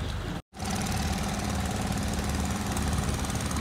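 Motorboat engine running after being tuned, on a river: a loud, steady mechanical drone with a brief dropout near the start, then continuous throbbing at close range with no voices.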